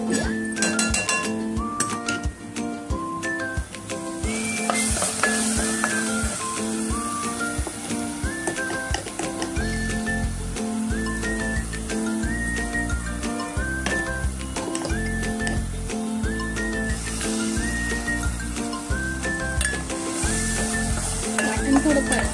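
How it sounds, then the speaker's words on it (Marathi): A paste of green chili, ginger and garlic fries in oil while being stirred, a loud continuous sizzle with clinks and scrapes of the spoon against the pan, over steady background music and no talk. "वाटण थोडं परतून घ्यायचं तेल सुटेपर्यंत"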